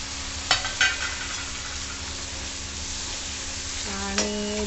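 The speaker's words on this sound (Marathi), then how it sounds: "आणि त्याच्यानंतर मग याच्यामध्ये मी टमाटर टाकून घेते बघा." Tomatoes fry with chili powder in a pan for dhaba-style potato and pea curry, with a constant soft sizzle and a few sharp clinks of a spoon against the pan.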